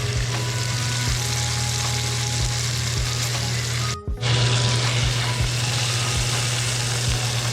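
Marbled beef steaks fry in hot oil with a steady, bright sizzle, over a low hum carrying faint periodic clicks. The sound briefly cuts out near the middle, then resumes.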